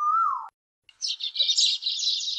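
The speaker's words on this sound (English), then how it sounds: "a sparrow." A sparrow chirps in a busy, continuous run of quick high twitters, coming in after a short pause that follows a falling whistled note from another bird.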